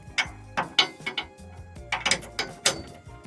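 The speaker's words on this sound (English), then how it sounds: "then an adapter back to the 3/8 extension for the 3/8 ratchet to reach up in there" Rapid clicking of a 3/8 ratchet on an extension tightening a Reese hitch bolt under a vehicle, heard close up in quick uneven strokes with metallic ratchet-pawl ticks.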